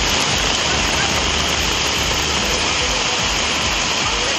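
Heavy rain pours down over Tenkasi, a dense, steady roar of water falling close by that stays loud and unbroken throughout, with no voices.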